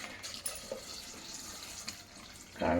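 Water trickles and splashes into a pot of soaked kabuli chickpeas with salt, a short, fairly quiet pour that surges louder at the very end.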